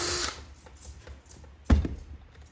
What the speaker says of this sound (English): Very easy to drill.